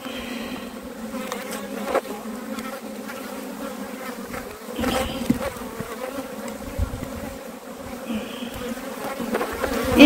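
Honeybees buzz around an opened hive during an inspection, a continuous droning hum that swells as bees pass close, with faint handling noises and no speech.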